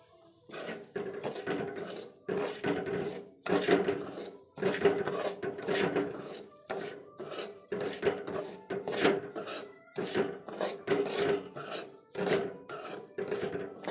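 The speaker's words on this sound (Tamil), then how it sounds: "ஒரு கப்பு ரவை எடுத்து வச்சுருக்கேன் அதை அதில் போட்டு நல்லா வதக்கிக்குங்க" Semolina being roasted in ghee in a pan and stirred, giving steady rhythmic rasping scrapes of a spoon against the pan, close and fairly even throughout.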